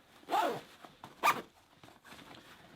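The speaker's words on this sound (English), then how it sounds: "So let's zip that back up." A zipper on an LA Police Gear Atlas 72 Hour tactical backpack is pulled closed in two quick, close rasping strokes, with a few softer fabric rustles after them.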